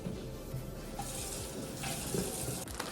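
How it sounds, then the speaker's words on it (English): Kitchen tap running steadily into a sink while hands are washed, a close, continuous splashing rush with slight shifts as the hands move under the stream. "First things first, I'm gonna wash my hands."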